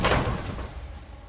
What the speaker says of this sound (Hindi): उन्हें फोन के अंदर से दरवाजे के टूटने की आवाज आई